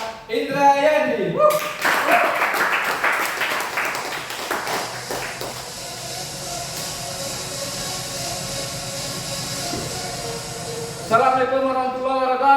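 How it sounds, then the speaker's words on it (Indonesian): Dense audience applause fills a business meeting hall in Pekanbaru, a broad hiss of many clapping hands rising sharply and holding steady for about ten seconds, with a voice speaking just before and after. "Boleh tepuk tangan yang luar biasa dari Bapak Ibu semuanya"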